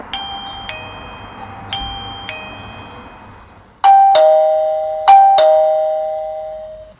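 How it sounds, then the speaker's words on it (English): A battery video doorbell's plug-in chime plays several chime patterns, first soft two-tone dings, then louder ringing ding-dongs that sustain and slowly fade. "We'll go through the 4 different chime sounds."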